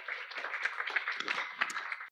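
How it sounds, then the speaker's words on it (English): Audience applause for a panel speaker at a social enterprise and creative industries event, a dense patter of many hands clapping steadily for about two seconds with no talk. "big round of applause, Jon Hewitt, who will then introduce the rest of our panel"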